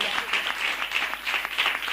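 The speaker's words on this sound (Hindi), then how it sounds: "आए यीशु मसीह के लिए जोरदार तालियां बजाएंगे" Brief burst of enthusiastic clapping from a congregation at a church gathering, fairly close and dense, with a few voices mixed in.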